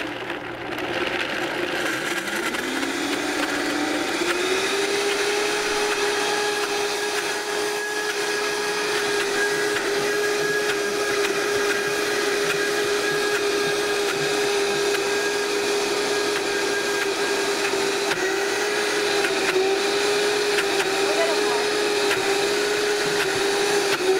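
A Vitamix blender processes a thick mixture at a steady, loud motor whine that ramps up over the first few seconds and then holds a constant pitch for more than twenty seconds, close and alone with no talking.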